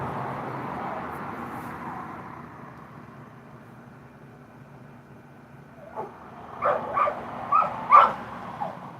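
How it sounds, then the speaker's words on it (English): A baby pit bull puppy barks and yips in a short burst of about five sharp calls near the end, after a stretch of low ambient hum with no talking. "He's just a baby pit bull. He wants to play. Listen to him."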